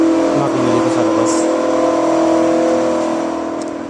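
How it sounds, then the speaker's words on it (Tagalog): A turbocharged Caterpillar engine runs outdoors with a steady loud drone and a whining turbo hum, close by and constant, with faint voices in the background. "yung turbo na to, nandito to sa makina dito sa labas"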